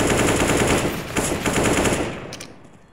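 Rapid automatic gunfire from Counter-Strike: Global Offensive, a dense, loud burst of shots that rattles steadily for about two seconds and then tapers off, with no talk over it.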